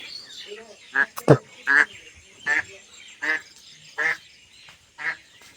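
A goose returning to its nest honks repeatedly, about seven loud, close calls spaced roughly evenly over several seconds against a quiet background.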